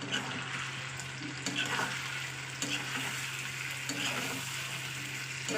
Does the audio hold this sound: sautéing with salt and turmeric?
yes